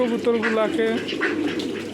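Pigeons coo softly while eating food, low burbling calls close by, mixed with a person speaking over them.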